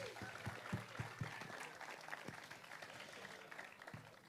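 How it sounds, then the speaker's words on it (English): An audience at a football academy player presentation evening applauds league champions, a steady wash of clapping from a crowd with a few sharper individual claps near the start, mixed with faint voices. "Massive round of applause."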